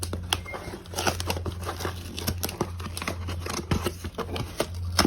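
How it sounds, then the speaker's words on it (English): A cardboard shipping box is cut open, with a close run of crinkling, scraping and tearing bursts over a faint steady hum. "First, Dad's gonna cut it open."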